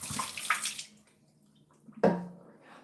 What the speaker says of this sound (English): Tap water.